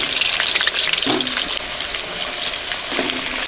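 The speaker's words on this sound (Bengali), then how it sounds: "তেল গরম হয়ে গেছে, আলু দিয়ে দিচ্ছি।" Potato pieces drop into hot oil in a pan and sizzle loudly and steadily, with a brief surge of bubbling as more are added, and no talking over it.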